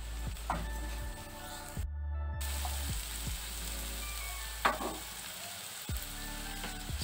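Soaked sago pulao with a pinch of turmeric and sugar fries in a pan, a soft sizzle broken by regular scraping stir strokes over a low background hum.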